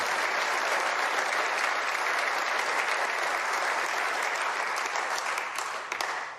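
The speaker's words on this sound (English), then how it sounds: "Who's going to give me a little clap?" A large audience at a golf award ceremony gives dense, sustained applause that holds steady and loud, then begins to fade at the end.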